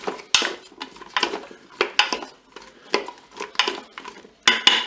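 Potato slices coated with oil being stirred inside a Cookeo multicooker pot, a utensil scraping and clinking against the metal bowl in a steady series of close, bright strokes, with no talking.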